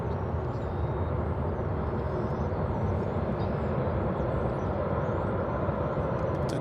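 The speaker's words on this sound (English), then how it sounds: "we can catch this flight arriving from Cancun. It's American Flight 1750. An Airbus A321." An American Airlines Airbus A321 arriving at Dallas/Fort Worth airport from Cancun, heard as a steady, broadband jet roar that holds at an even level throughout without any voices.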